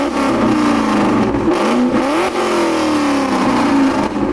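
A Ford Mustang muscle car engine revs hard and close, its pitch climbing and dipping through several loud throttle blips with a throaty, continuous roar.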